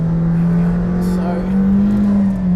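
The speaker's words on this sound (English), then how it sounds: "I'm sure you can hear as well as just how razor sharp the gearbox is" A McLaren Senna supercar's engine holds a loud, steady drone while driving, with a slight rise and fall in pitch but no clearly separate gear shifts.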